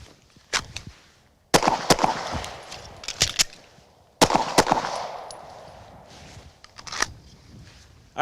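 Several sharp pistol shots ring out in uneven bursts after a draw from a concealment garment, loud and close with short reverberant decays between clusters.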